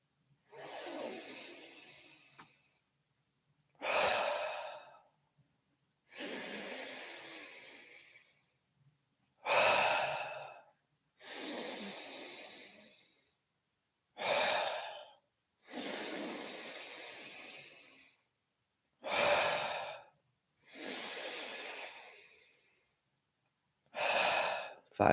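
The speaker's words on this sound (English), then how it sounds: "we'll take 10 deep breaths here at your own pace, with that nice big sigh of relief as your exhale." Ten-count deep breathing practice in a calm morning session: slow full inhales followed by long, audible sighing exhales, repeated in a steady rhythm with short silences between, close and clear with no talking.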